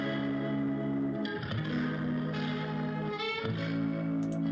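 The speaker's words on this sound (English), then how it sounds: "I'm using a chorus effect on one channel with a bit of reverb and a little bit of a tremolo." Warm electric guitar part treated with chorus, a touch of reverb and light tremolo, sustained chords ringing with a gently wavering, swirling shimmer and slight volume pulsing, changing chord roughly every second and a half, with no voices.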